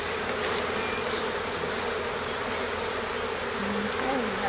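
Honey bees swarm around an open hive frame during requeening, a loud, dense, continuous buzz filling the whole span close by, with no clear talk over it.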